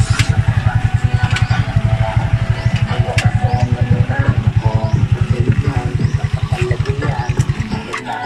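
A Rusi 175 motorcycle laboring under a load of rice sacks, its single-cylinder engine thumping in a rapid, even pulse close by, loud and continuous with faint background sounds.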